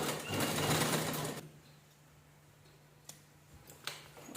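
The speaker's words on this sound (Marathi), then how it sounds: "व्यवस्थित स्टिच करून घ्यायचं एकसारखं छान स्टिच करून घ्यायचं" A sewing machine stitches fabric cut from old jeans pants, running in a loud, steady burst for just over a second, then stopping and leaving quiet room tone with a few faint clicks.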